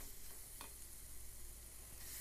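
Spices sautéed in a pan with jolpai (olive) for a sour red spinach and shrimp soup, a soft sizzle under a couple of scraping stirs, quiet and close.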